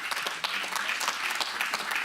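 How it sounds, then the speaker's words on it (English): Applause fills a Sutter County supervisors meeting, steady dense clapping from a room of attendees lasting about two seconds at moderate level. "So with that, I'm going to clap for it."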